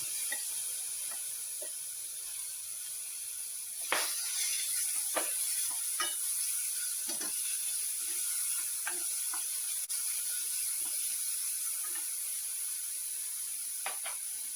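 Chopped tomatoes sizzle steadily after going into a hot pan for a home-cooked lunch, a constant hiss broken by scattered sharp crackles and pops, close and alone with no talking.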